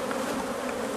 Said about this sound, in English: We got some bees that are upset here.